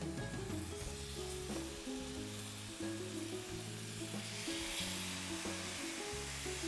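Pieces of meat fry in a pan with a steady, dense sizzle that runs throughout, layered over low tonal background music.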